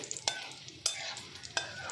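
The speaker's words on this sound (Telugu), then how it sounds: "ఇప్పుడు తాలింపు దినుసులు వేద్దాము. పచ్చెనగపప్పు, మినపప్పు, ఆవాలు, జీలకర్ర అండి వేసుకొని కలుపుకోండి గరిటెతోటి." Oil sizzles softly while a ladle scrapes through frying chana dal, urad dal, mustard seeds and cumin three times, each stroke a sharp, close clatter over the steady crackle.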